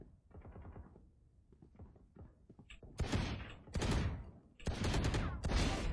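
Gunfire in a Counter-Strike deathmatch comes as short bursts, softer at first and then several loud, dense volleys separated by brief gaps, with faint talk early on.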